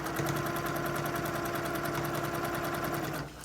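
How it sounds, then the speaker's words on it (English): A sewing machine stitches down the side of a fabric mask strip, a fast steady mechanical whir with a rapid rhythmic needle pulse, close and continuous until it stops just before the end. "So I just sew down that side."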